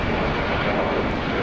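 An airliner takes off at Brisbane Airport, its engines a loud, continuous roar that holds steady throughout the brief moment with no voices over it.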